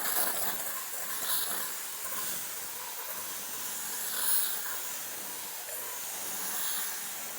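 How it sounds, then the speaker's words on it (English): A handheld steamer is used to lift paint protection film, giving a soft, continuous hiss of steam with gentle surges, moderately quiet and alone. "another tool that can help you get the job done is a steamer. So I'll just take the steamer"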